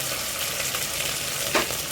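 One tablespoon of ginger garlic paste goes into softened onions frying in a pan for white chicken pulao, giving a steady close sizzle with a brief soft thud and bubbling flare midway.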